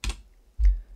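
Two quick keystrokes on a computer keyboard entering a value into drainage design software, close and crisp with a short gap between them, and no talking.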